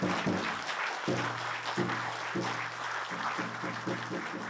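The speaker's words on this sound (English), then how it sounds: "Let's give them a hand clap for all the organization." A crowd applauds with steady clapping throughout at a Treaty 4 150th commemorative event, with a few voices murmuring and calling out faintly underneath.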